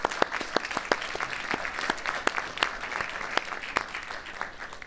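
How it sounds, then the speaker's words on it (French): An audience at a conference gives applause for paramedics, emergency and maintenance workers: a sustained burst of many hands clapping fairly quickly in a hall, heard at moderate distance. "je pense que vous méritez une belle main d'applaudissements dès le départ"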